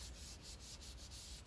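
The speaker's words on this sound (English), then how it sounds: "So I am wet sanding between coats." Fine-grit paper rubs back and forth over a painted mountain bike frame between coats, wet sanding in quick rhythmic strokes; very faint and close with no talk.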